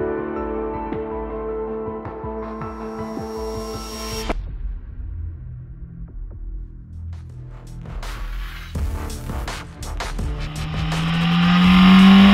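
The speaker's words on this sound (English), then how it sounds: "now we've driven the Formula Renault car a little bit" A Formula Renault race car driven on track, its engine note shifting through revs with a low rumble and rising whine, then building to a loud, close acceleration at the end.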